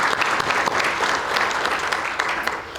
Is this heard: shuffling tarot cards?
no